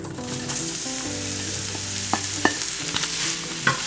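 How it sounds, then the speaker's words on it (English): Mushrooms tipped into a hot pan for creamy chicken marsala sizzle loudly and continuously, with a few clinks and bright spits near the middle and end, close up and without speech. "now I'm going to add all of my mushrooms directly into the pan"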